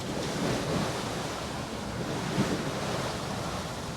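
Sea waves wash over a sailboat's foredeck while sailing in rough water, a continuous loud rushing hiss mixed with wind buffeting the microphone, one sharper splash surging briefly midway, no voices.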